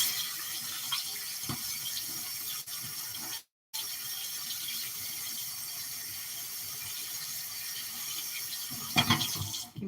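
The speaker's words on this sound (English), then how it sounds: "I wash my hands." Hands being washed under a running tap at a kitchen sink while cooking, a steady broadband stream of water throughout, briefly cut off once, with a louder splash near the end.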